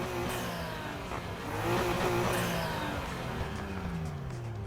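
A Nissan Skyline GT-R engine in the racing game Need for Speed Heat revs up and down in the garage, a clear, moderately loud rising and falling engine tone with no talking.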